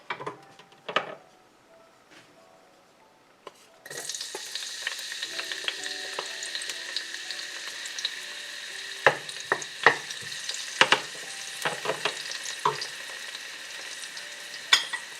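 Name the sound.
garlic and onions frying in warm oil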